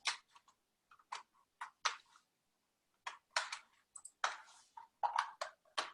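Keystrokes on a computer keyboard whose C key is faulty, heard close and alone in quick irregular clusters with short pauses between bursts.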